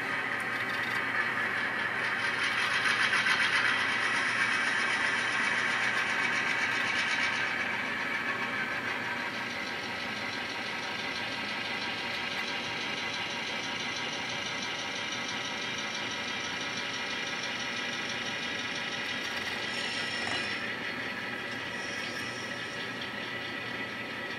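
Railway locomotive backing up on the track, its engine holding a steady mid-pitched rumble with mechanical clatter, loud and continuous throughout.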